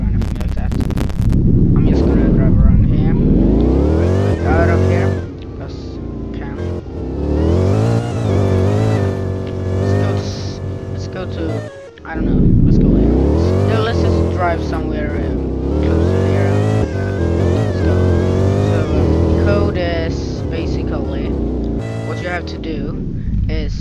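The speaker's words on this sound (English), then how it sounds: "I'm just gonna drive around here." A car drives around in a video game, its engine revving and shifting pitch continuously over a loud, busy mix with occasional bursts, and someone talks throughout.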